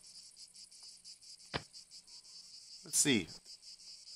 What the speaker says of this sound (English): I got a bunch of crickets here.